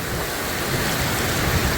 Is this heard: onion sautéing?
no